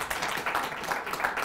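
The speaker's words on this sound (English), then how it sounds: "let's give another round of applause for all the 10 teams" Audience applause for ten student app contest teams at a university IT demo day and award ceremony, a steady wash of many hands clapping at moderate level without a break.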